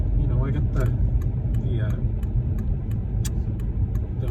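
Car driving on a snowy road after new tires and struts were fitted, with steady low engine and road rumble throughout and faint clicks and a voice talking over it.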